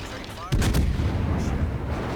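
In the World of Warships naval combat game, a warship fires high-explosive shells. A sudden heavy gun blast is followed by a sustained rumbling boom that lingers loudly in the background.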